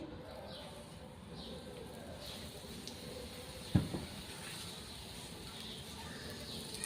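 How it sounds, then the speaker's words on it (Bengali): An aloo paratha fries in white oil with a steady, soft sizzle and hiss throughout. A single sharp knock sounds midway, and no one talks. "আমি এখানে সাদা তেল দিয়েই ফ্রাই করছি।"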